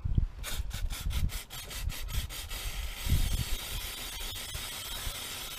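Honda motorcycle parts scrubbed with a toothbrush and degreaser, giving quick rhythmic bristle strokes, close and fairly soft, in a steady back-and-forth series.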